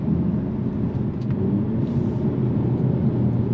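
A 2022 Hyundai Elantra N drives in its N performance mode, giving a steady, loud engine and road rumble from inside the cabin with a brief rise in tone partway through.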